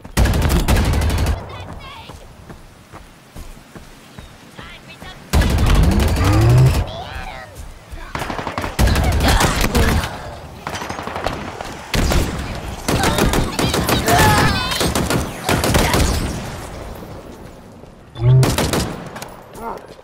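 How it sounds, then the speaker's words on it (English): Gunfire from enemies shooting in the Halo Infinite video game, loud bursts of rapid automatic fire that start and stop repeatedly, mixed with game sound effects and occasional talking. "Someone's shooting at me."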